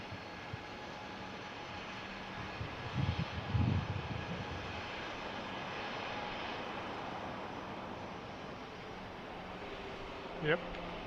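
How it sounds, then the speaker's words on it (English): A Delta airliner taxiing at the San Jose airport, a steady distant engine drone and rumble under occasional nearby voices. "Sounds like that Delta's just taxiing too"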